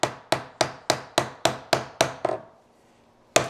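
Chisel driven by mallet into wood to chop a mortise for a wedged mortise and tenon joint: nine sharp, evenly spaced close strikes with a short ringing decay, a pause, then one more blow.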